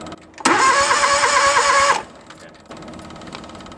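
An engine is cold started after its fuel pump was checked and a jump pack connected. The starter cranks with a loud, whining grind for about a second and a half, then drops suddenly to a quieter, uneven rumble.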